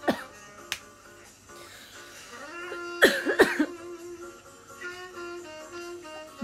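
A few short coughs from a woman hosting an online livestream chat, sharp and close. They come as isolated bursts at the start and a cluster near the middle, over a quiet room with faint background tones.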